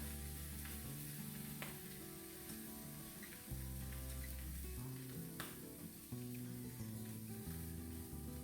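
A tuna melt sandwich fries in a hot pan with a steady, close sizzle that runs throughout under a background of faint music.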